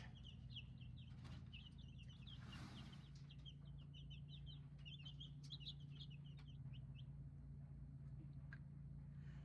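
Baby chicks on a farm peep constantly in a shrill, high, overlapping chorus of short chirps, close and steady over a low background hum.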